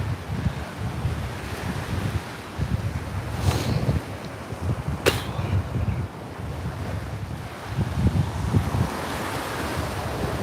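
Steady surf washing onto Coney Island Beach at a walking pace, mixed with constant gusting wind buffeting the microphone and a couple of brief sharp knocks.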